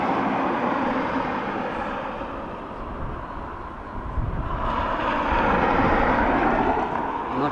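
An American Airlines airliner takes off from Dublin Airport, a sustained broadband engine roar heard outdoors, dipping slightly in the middle before building louder and fuller through the final seconds.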